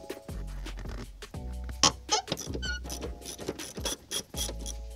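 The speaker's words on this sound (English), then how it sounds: "Go ahead and grab your ratchet and then just start unscrewing it." A hand ratchet loosens a car seat bolt during an aftermarket seat install, giving close, crisp bursts of rapid clicking in several separate strokes with short pauses between them.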